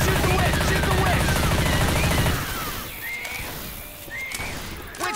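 Rapid automatic gunfire aimed at the Witch in Left 4 Dead 2, a loud continuous burst for about two seconds that cuts off, followed by quieter game ambience with faint shouting voices.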